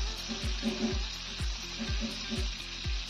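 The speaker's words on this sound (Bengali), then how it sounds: "এদিকে সজনাগুলো ভাজা হতে থাকুক" Moringa drumsticks and potatoes fry in oil with a steady close sizzle, broken by soft rhythmic thumps of stirring about twice a second; no voices.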